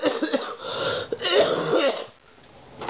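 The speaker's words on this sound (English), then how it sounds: "Still got a bit of cough" A few rough coughs and throat-clearing bursts in the first two seconds, fairly close, then quieter background.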